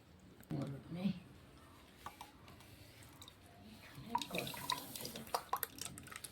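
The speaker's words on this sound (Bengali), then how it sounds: "টিপে টিপে রসটা বের করে দেবো, ছিপড়েটাকে ফেলে দেবো।" Pulpy wood apple is squeezed by hand through a strainer to press out the juice, giving wet squishing and dripping sounds close by, with a voice speaking over part of it.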